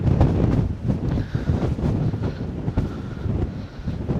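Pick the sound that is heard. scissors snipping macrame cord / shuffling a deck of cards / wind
wind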